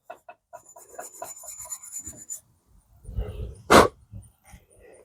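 Metal is rubbed with fine 4/0 steel wool in short, raspy scrubbing strokes up close, and a sharp bark or knock cuts in near the middle.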